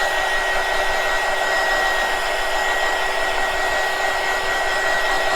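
Hot air gun drying paint for a fake cotton candy craft: a steady, loud, continuous whirring blow with a constant high whine, close by, unbroken throughout, with no talking.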